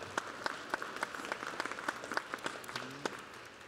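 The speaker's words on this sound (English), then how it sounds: "please give a round of applause to these folks who have worked so hard" Steady applause from an audience at a university engineering commencement ceremony, many hands clapping at a moderate, distant level with a few sharper individual claps standing out.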